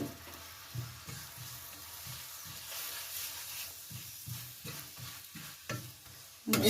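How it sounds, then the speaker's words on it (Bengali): Beetroot paratha frying in a pan, a soft steady sizzle with intermittent scraping and stirring taps, close and fairly quiet, with no speech. "এইভাবে আমি সমস্তগুলো ভেজে নেব"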